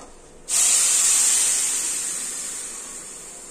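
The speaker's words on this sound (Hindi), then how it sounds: "गरम दूध डालेंगे," Hot milk poured into roasted vermicelli in a pan hits with a sudden loud sizzling hiss that sets in abruptly and slowly fades while staying strong, close up with no talk.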